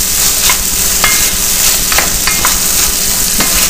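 Meat, peas and corn with garlic cooking in a hot pan for stuffed bell peppers, a loud steady sizzle with occasional spatula scrapes, close up and without talk.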